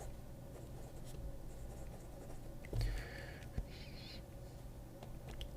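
A Conklin Mark Twain fountain pen with a stub nib writes on paper, giving a faint, soft scratching close by, with a couple of small bumps and rustles in a quiet room.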